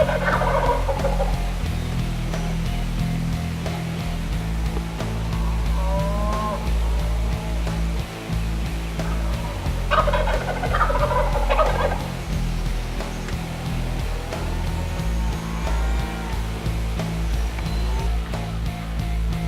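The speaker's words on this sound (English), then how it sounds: "We had birds about 60 yards from us gobbling in the tree." Wild turkeys gobble repeatedly from roost trees about sixty yards off during a spring youth hunt, with several loud bursts rising over steady low outdoor background noise.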